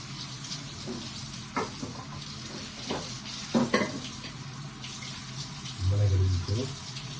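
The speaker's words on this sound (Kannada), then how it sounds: "ಒಗ್ಗರಣೆ ರೆಡಿ ಆಗ್ತಾ ಇದೆ. ಇಲ್ಲಿ ಶುಂಠಿ ಹಾಕಿದ್ದೀನಿ, ಈರುಳ್ಳಿ ಹಾಕಿದ್ದೀನಿ, ಮೆಣಸಿನ್ಕಾಯಿ ಹಾಕಿದ್ದೀನಿ" Ginger, onion and green chilli tempering frying in a pan, a steady low sizzle with a few scrapes and clinks of stirring, followed by a brief louder rumble near the end.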